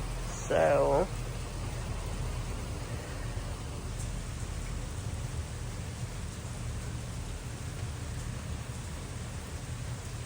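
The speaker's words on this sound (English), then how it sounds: "Rain. We definitely need it." Steady rain falls as a broad, even hiss that fills the whole clip, with a brief voice near the start.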